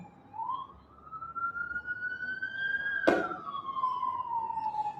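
An ambulance siren wails in a Panama neighborhood near a hospital, a single clear rising then falling tone sweeping past at moderate distance, with a sharp bump midway.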